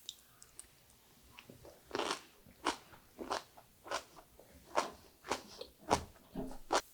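Loud, crisp crunching bites of a cabbage wrap with nuts and finely julienned sweet potato repeat at close range, a steady chewing rhythm of crackly bursts with brief quiet gaps between them.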